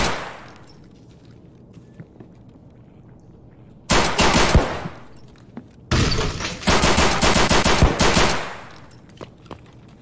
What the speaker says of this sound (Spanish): Había alguien disparando desde detrás